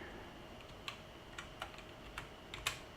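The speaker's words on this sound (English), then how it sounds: "Meant to use the keyboard to check my alignment here." Computer keyboard keys tapped in sparse, irregular clicks while checking alignment during a Farming Simulator 19 session, faint and close over a low steady hiss, with no talking.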